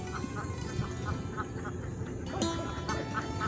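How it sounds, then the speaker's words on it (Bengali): Ducks on a duck farm at a wetland, with repeated quacks scattered over a noisy outdoor background at moderate distance. "হাঁস চাষ হচ্ছে।"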